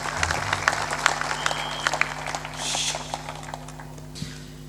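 An audience at a spiritual discourse breaks into scattered clapping, a short ragged burst of claps in a hall that thins out and fades, with no talking over it.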